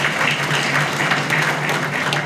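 Audience applause at a Tanzanian ceremony honouring sports medal achievements: a steady, dense wash of many hands clapping together, loud and continuous for the whole stretch, with no talk over it.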